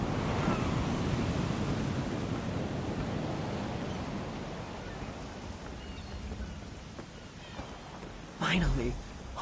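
A ship sets sail through a fantasy sea world, ocean waves and wind rushing as a steady broadband wash that slowly eases, with a brief louder splash near the end.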